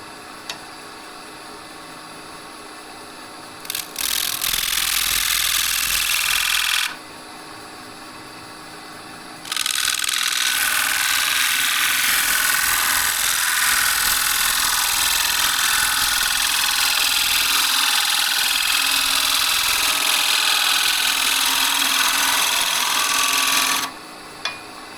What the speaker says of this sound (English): This is that same half-inch bottom feeding bowl gouge.